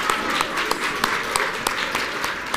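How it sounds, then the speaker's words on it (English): An audience applauds a team at a school Battle of the Books competition, giving a dense, continuous patter of many hands throughout, with faint voices mixed in. "Let's give the burnt marshmallows huge applause"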